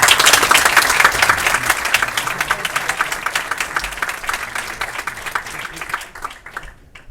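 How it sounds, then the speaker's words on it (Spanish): A forum audience breaks into strong, loud applause for a priest taking the floor, dense crisp clapping that holds steady for several seconds before tapering off near the end. "Fuerte aplauso."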